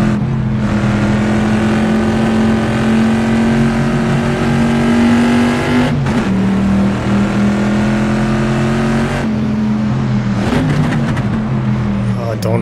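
Corvette C2 and Shelby race cars in Assetto Corsa roar at Watkins Glen with a loud, sustained engine drone and a couple of abrupt gear-shift breaks in pitch.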